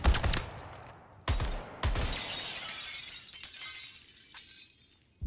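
Glass shattering in the video game Suicide Squad: Kill the Justice League, three loud crashing bursts in quick succession, each followed by tinkling debris that fades into scattered falling shards, with no voices.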